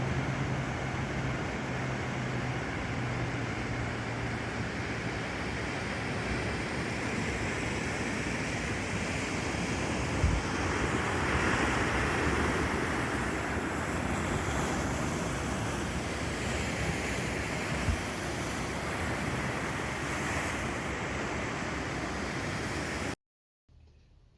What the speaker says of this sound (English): the tide comes rushing up the Petitcodiac River in what they call a tidal bore